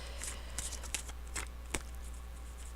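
Tarot cards are shuffled close up in soft, quick riffling bursts over a low steady hum, with no voices.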